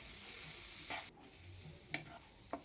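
Chopped onion greens coated with gram flour are stirred in a pan, giving soft sizzling and a few scraping spatula strokes, faint and unhurried with no voices.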